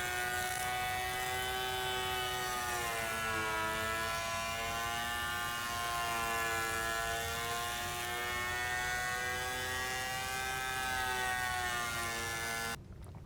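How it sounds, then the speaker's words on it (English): Wood planer smoothing a live edge slab ripped to width for an entryway table, a steady loud high whine with shifting harmonic tones running continuously before cutting off abruptly at the end. "That way I could just run it through the planer to smooth it out."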